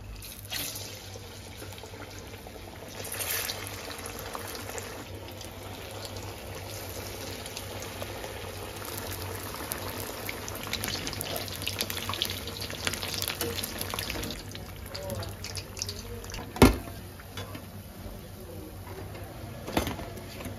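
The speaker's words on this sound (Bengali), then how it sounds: "এবার কি গরম তেলে একটা একটা করে দিব।" Sago chops frying in hot oil, a steady low sizzling and bubbling that runs throughout, fairly faint, with a couple of sharp clinks near the end.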